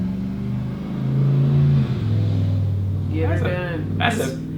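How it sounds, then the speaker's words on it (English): A big Texas truck rumbles past with a low, swelling engine roar that rises and then fades, followed by someone talking over the tail of the sound. "That's a big old Texas truck."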